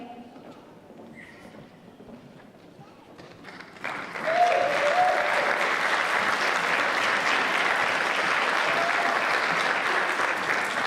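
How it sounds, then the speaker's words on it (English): Audience at a school pageant applauding the princess-category contestants: quiet room noise, then a sudden swell of dense clapping and cheering that stays loud and steady to the end. "One big round of applause there for all of our ladies."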